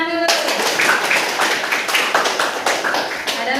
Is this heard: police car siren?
no